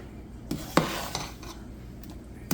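A spoon stirs boiling blueberry jam in a pot, with a few clinks and scrapes against the metal over a steady bubbling hiss, close up and with no talking.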